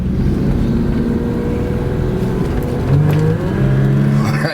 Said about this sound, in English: there's that rather torquey six-cylinder bringing us up to speed